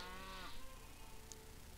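Cattle mooing in the strategy game Civilization V, a low drawn-out moo in the first half second that tails off into a steady droning game backdrop with a brief high chime.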